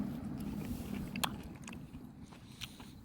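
Quiet, close-up chewing and a crisp bite come from someone eating fish and chips with curry sauce. The sound is soft and steady, with one sharper crunch partway through.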